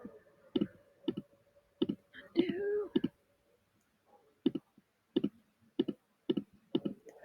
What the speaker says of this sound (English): clicking undo a million times